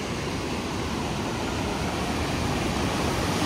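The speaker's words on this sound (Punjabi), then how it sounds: "ਪਾਣੀ ਦਾ ਫਲੋ ਪੂਰਾ ਤੇਜ਼ ਹੈ" A fast-flowing stream swollen with melting snow rushes steadily and loudly, a continuous dense roar of water with no voices over it.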